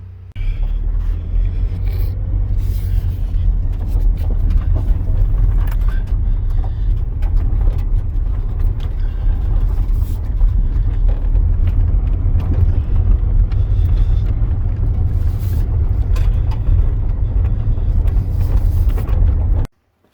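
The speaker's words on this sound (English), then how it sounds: "Gonna be running in the old red shop truck today." Old red shop truck on the road, a steady low engine rumble and road drone heard from inside the cab, loud and continuous before cutting off abruptly at the end.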